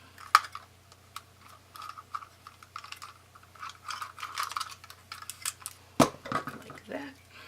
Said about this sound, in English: And just use my label maker.